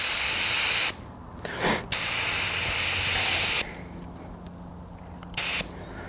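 Compressed air hisses loudly and close up as a motocross tyre is inflated, in several long bursts broken by short quiet pauses.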